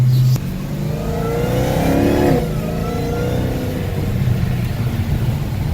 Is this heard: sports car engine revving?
yes